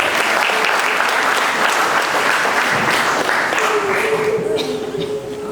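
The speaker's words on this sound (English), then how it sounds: "we can give a big round of applause for our performance" An audience claps loudly and steadily after a Kathak dance performance at an evening show in Dubai, with a few voices mixed into the dense applause as it begins to fade near the end.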